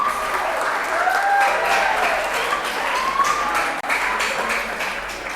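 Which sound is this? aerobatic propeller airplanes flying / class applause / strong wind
class applause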